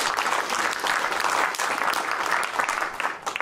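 An audience applauding at a presentation on Bitcoin mining with immersion cooling: steady, dense clapping from a crowd, sustained for the whole stretch and fading slightly at the end.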